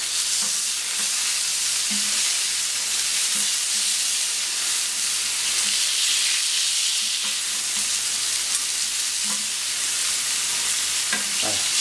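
Marinated Basque-style chicken pieces and garnish sizzle steadily as they brown in a pan, a loud, continuous frying hiss with occasional soft pops and stirring touches, no talking.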